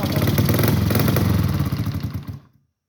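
A pit bike engine idles roughly after a carburetor adjustment, its uneven mechanical clatter loud and close before cutting out and going silent partway through.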